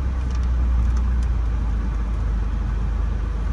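A car drives through street traffic in the St. Roch neighborhood of New Orleans' 9th Ward, a steady low engine rumble and road noise with no talk.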